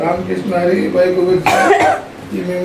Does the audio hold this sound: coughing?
yes